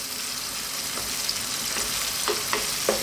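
Whole plum tomatoes in a sizzling chili tomato sauce are pressed and broken down in the pan, a steady close hiss broken by a few wet squishing pops and scrapes near the end.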